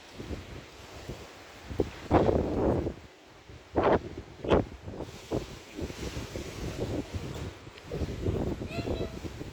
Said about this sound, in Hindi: कितने ज़ोर से हवा चल रही है।